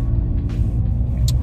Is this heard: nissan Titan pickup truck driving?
yes